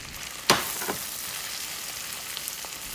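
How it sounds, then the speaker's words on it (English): Head-on, shell-on shrimp hit a pan over medium-high heat with a sharp sizzle, then settle into a steady, hissing fry with faint crackles and a small stir. "Now, I'm adding head-on shrimp."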